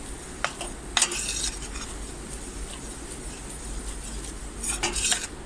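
Cauliflower being sautéed in butter in a pan, with stirring and utensil scrapes against the pan over a steady low sizzle, clusters of clinks near the start and again near the end.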